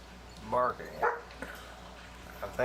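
A dog barks several times nearby, sharp distinct woofs spaced about half a second apart over a low background hum.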